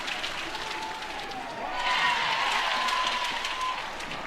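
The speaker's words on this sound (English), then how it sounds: "They're having a good time in the crowd today. Another packed house, keeping it loud." A packed stadium crowd cheers and claps at a college softball game between Oklahoma and Texas, a dense, distant roar of applause and voices that swells louder partway through, with a commentator's voice partly over it.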